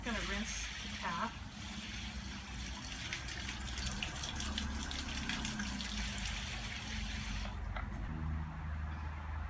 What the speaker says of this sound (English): I'm also going to rinse the cap.